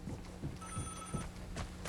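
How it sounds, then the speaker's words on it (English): A telephone rings in the video game Vigor, a steady bright electronic trill heard for about half a second over a busy backdrop of low thumping footsteps and ambient game noise. "the phone does not ring infinitely"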